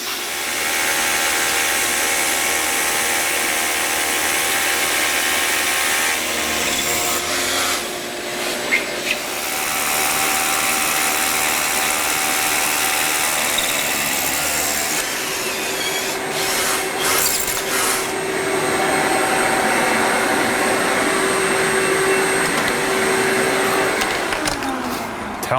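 A compact SDS hammer drill bores into a concrete floor during a scissor lift installation, giving a loud, steady grinding roar that runs almost unbroken for the whole stretch, with brief changes in pitch and no talk.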